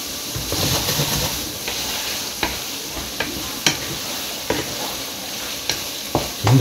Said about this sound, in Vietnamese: Thỉnh thoảng mình hãy quậy đều lên, xào lên cho nó đều